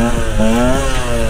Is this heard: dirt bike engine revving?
yes